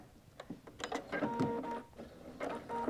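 A sewing machine back-stitches at the seam edge of a mitered quilted napkin with quiet, uneven clicking and short mechanical whirs, close and faint, in brief start-stop bursts.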